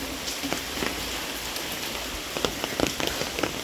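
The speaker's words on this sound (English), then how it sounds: "Here big rain fell." Heavy rain falls outside a house as a dense, steady hiss with scattered sharper drops and patters, constant and enveloping with no voices.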